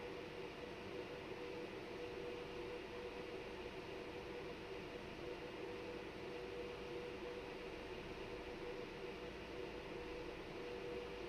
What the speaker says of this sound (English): This train sounds so funny.